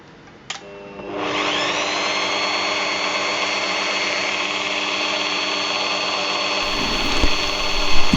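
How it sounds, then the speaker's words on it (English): A power drill boring a 2.35 mm hole through a Victorinox pocket knife, starting after a brief click and then whining steadily and loudly for several seconds before the pitch shifts near the end. "Drilling this hole was much harder than I thought."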